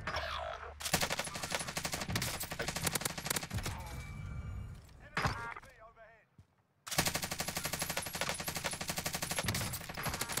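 Machine gun fire in the game Warzone on Rebirth Island, long loud rapid bursts broken by a short pause and a brief quiet gap, with a voice briefly audible between bursts.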